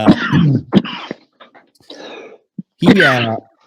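A cough and throat clearing picked up close on a microphone, a couple of short rough bursts between stretches of speech.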